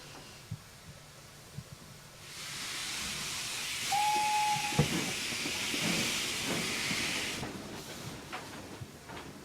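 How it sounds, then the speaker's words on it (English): Loud broad hiss of steam from a Class 2F Dock Tank steam locomotive in Train Simulator 2015, rising after a quiet start and holding for several seconds, with a short whistle-like tone and scattered clanks over the hiss. "Grimy, dirty, working steam engine."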